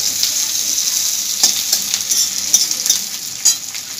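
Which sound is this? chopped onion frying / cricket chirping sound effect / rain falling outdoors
chopped onion frying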